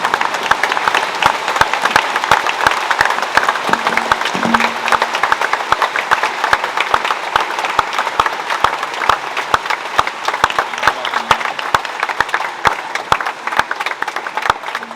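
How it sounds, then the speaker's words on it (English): A graduation assembly audience gives a long standing ovation for a departing school principal: loud, dense clapping that rolls on steadily for about fifteen seconds, with no voices breaking through. "can we get up standing and give Mr. Mills a round of applause?"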